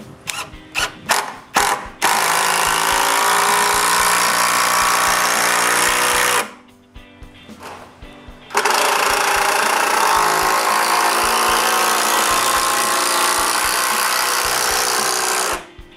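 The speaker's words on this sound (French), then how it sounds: "puis je les visse au 2/6." A cordless drill drives screws as window frames are fastened into a 2x6 wood stud wall for a new workshop. A few short bursts come first, then two long steady whirring runs split by a brief pause.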